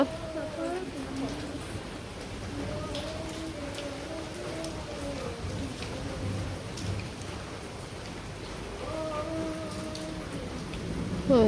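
Steady rain falls outdoors in a rural village under a cloudy sky, a continuous near hiss lasting throughout, with a voice talking over it for much of the time.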